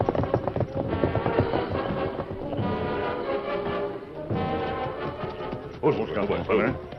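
Horses' hooves clip-clop steadily through a radio western drama, up to fifty horses on the move, the rhythmic clopping running under continuous talk and background music.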